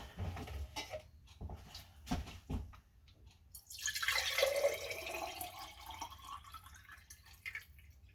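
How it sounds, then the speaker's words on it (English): Water pours steadily into a container for a few seconds, a rushing, filling sound after some scattered drips and knocks, close by and moderately loud. "fill this jar up with water"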